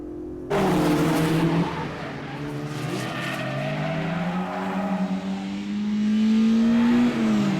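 Racing cars in an Initial D street race, including a white Mazda RX-7 speeding ahead: loud, sustained engine roar that climbs in pitch as the car accelerates, with tire squeal along the way.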